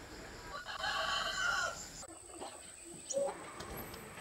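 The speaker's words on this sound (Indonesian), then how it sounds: "Ini ayam di kampung." Village chickens cluck and a rooster crows close by, the calls loud for the first two seconds, then quieter scattered clucks with a brief sharp call near the end.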